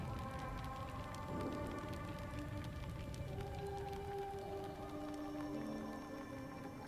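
Heavy rain pours in Burly Men at Sea as a boat crew bails water, a steady, dense hiss of downpour with eerie, wordless tonal keening drifting over it throughout.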